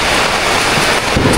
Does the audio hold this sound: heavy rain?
yes